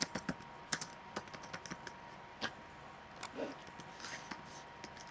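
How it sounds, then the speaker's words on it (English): Typing on a computer keyboard, a quiet, irregular run of soft key clicks and taps spread across several seconds, fairly close and alone without speech. "keyboard."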